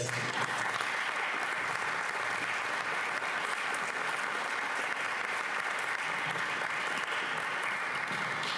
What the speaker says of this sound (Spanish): les pido que la recibamos a todo el equipo con un caluroso aplauso